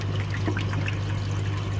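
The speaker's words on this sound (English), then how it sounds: "And we have water running in" Pumped water runs into a river channel as a soft, steady trickle and pour, close by and alone, over a constant low mechanical hum.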